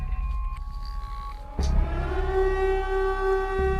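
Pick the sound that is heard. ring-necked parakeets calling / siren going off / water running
siren going off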